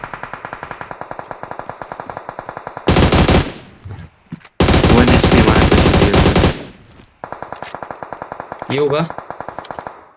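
Rapid bursts of video-game gunfire from an online squad shooter, steady machine-gun rattle broken by louder blasts and explosions, with players chatting over it.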